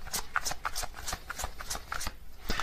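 Tarot cards drawn and handled from a deck, a quick series of close papery flicks and slaps in an uneven rhythm, about eight or nine distinct snaps.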